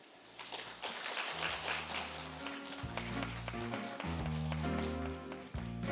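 Audience applause fills a hall at a 2021 joint ceremony of religious communities, a dense steady clapping lasting several seconds with a low musical accompaniment beneath it.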